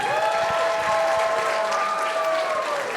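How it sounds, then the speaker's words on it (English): Audience at a university international dinner applauds a performer, a steady, full round of clapping from a crowd, with sustained tonal music or feedback lines humming underneath. "Can we give please one more round of applause for Stephanie?"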